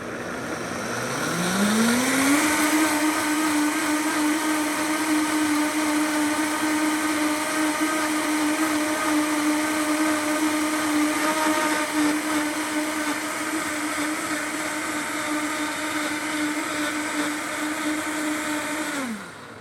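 A Vitamix blender starts at low speed and ramps up to a steady, loud whirring drone that holds for most of the run before cutting off at the end.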